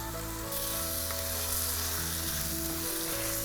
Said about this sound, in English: it's still sizzling away wok style on a really high heat